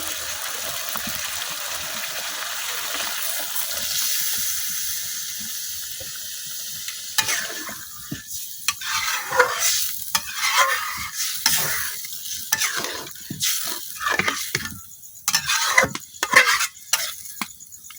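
Chicken feet curry bubbles in a pot after gravy is added, first a soft steady simmer, then loud, uneven stirring with wet sloshes and scrapes in the liquid for the rest of the time.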